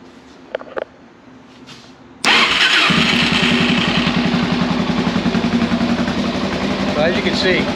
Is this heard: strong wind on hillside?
no